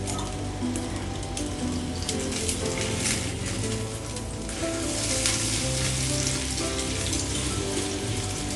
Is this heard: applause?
no